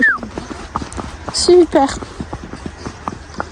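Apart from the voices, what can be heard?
pony hooves clip-clopping on a ride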